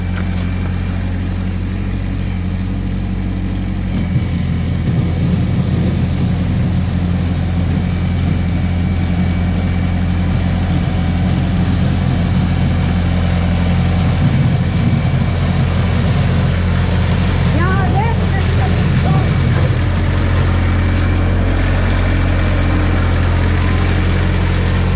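A tractor engine chugs steadily and loudly at close range, running continuously with a deep droning hum as it flattens ice bumps on a snowy driveway.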